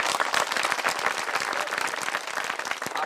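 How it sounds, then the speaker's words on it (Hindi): A crowd at a political speech claps in loud, dense applause that holds steady from start to finish, with no voice over it. "आपकी तालियां तो बहुत बज गई"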